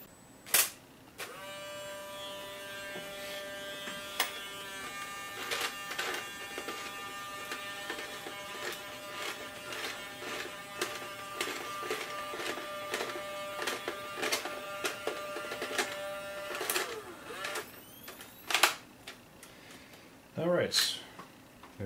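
An old Kodak instant camera loaded with Instax Square film fires with a sharp click and whirring mechanical ejection, followed by more clicks and clatter while a person talks quietly.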